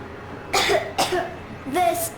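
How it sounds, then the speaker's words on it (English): A few harsh coughs in quick succession from a child in the video game Metro Exodus, close and fairly loud, with a voice-like, hoarse quality. "I have this cough."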